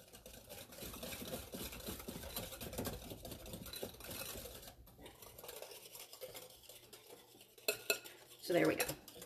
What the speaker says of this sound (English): So I just want to whisk that till it's really well combined.